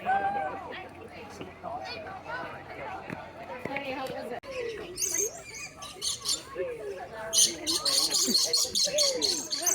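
Birds chirp and tweet in a zoo aviary, bright calls growing busier toward the end amid a crowd's babble and nearby voices.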